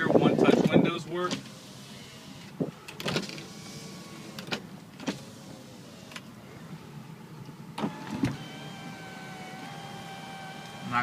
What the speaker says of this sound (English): One-touch windows work.